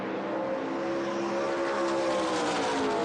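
ARCA Menards stock race cars lapping the Rockingham oval give a steady, loud engine roar, one car's note rising slightly as it drives on without a break.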